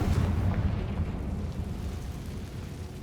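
The Confringo fire spell in the video game Hogwarts Legacy bursts as a dense, rumbling explosion that starts loud and slowly fades over a few seconds.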